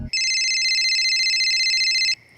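A single sustained electronic phone ring, a bright steady tone lasting about two seconds before cutting off abruptly, in a home.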